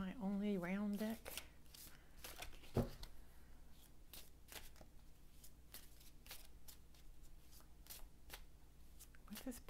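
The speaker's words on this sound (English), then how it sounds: "I'm going to pull an oracle card first from my only round deck." An oracle card deck is shuffled by hand, making a steady run of soft papery riffles and flicks close by, while someone talks quietly over it at the start.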